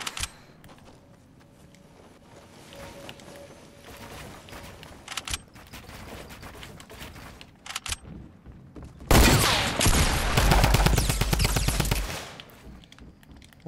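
Gunfire in Fortnite, scattered single shots and short bursts early, then a loud sustained volley of rapid fire for several seconds before tapering; no talk.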